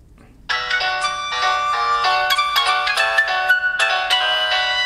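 Music plays at maximum volume from the built-in speaker of a Vivo Apex 2019 phone, a bright bell-like melodic tune starting abruptly and continuing steadily, close and loud with no talk.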